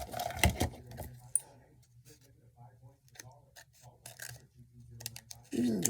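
Metal scissors clink and rattle in a few sharp handling bursts on a craft table during kit assembly, close and fairly quiet, with a person talking softly at intervals.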